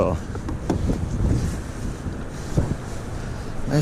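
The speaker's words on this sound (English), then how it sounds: "It's extremely windy today" Strong wind buffeting the microphone with a constant low roar and rumbling gusts, water faintly lapping underneath.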